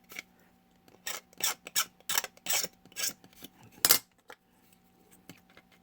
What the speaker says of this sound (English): You can do this with a sanding stick or a file.